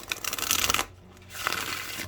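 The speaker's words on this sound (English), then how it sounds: "And it does shuffle nicely. It is a very nice deck." A tarot card deck is shuffled by hand in close, crisp riffling bursts, a short flurry, a brief pause, then another round of soft papery shuffling.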